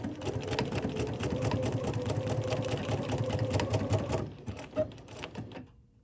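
A Bernina sewing machine runs steadily, stitching fancy decorative patterns with a rapid mechanical whirring chatter for several seconds before slowing and stopping with a few clicks.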